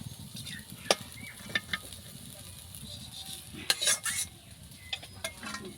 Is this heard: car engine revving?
no